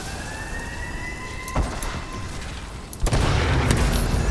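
A blaring alarm siren in Call of Duty: Advanced Warfare multiplayer, its tone sustained at first, then broken by two heavy missile-strike blasts, the second bringing a loud rumbling roar that holds to the end.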